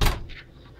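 A door opens for a visitor with a short, fairly loud thump and rattle at the start, then a softer scrape before a quiet room tone.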